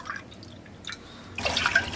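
Water being poured into a pot on a gas stove for ginger tea: a short, splashing pour heard near the end after faint kitchen ambience, close and fairly loud, with no talk.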